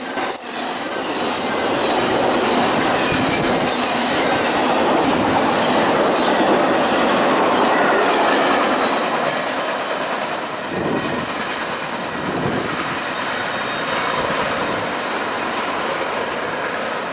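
A freight train rolls past a railroad crossing, loud and close, with continuous heavy rumble, clickety-clack of wheels over rail joints, and occasional wheel squeal, no voices.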